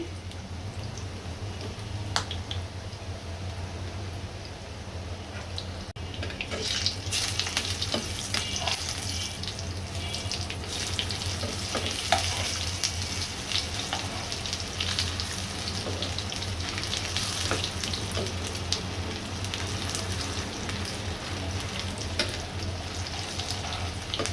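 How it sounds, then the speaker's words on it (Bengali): Kebabs fry on a stovetop, giving a continuous soft crackling sizzle with scattered pops throughout. "এই চুলায় হচ্ছে কাবাবটা ভেজে নিতেছি"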